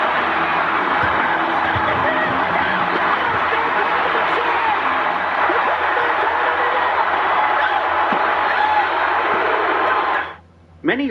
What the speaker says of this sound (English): Many wrestling historians like to point to this moment as the loudest crowd reaction in WWE history